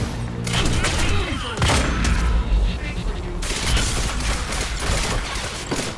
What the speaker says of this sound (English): the shotgun makes taking these grunts out quite a bit easier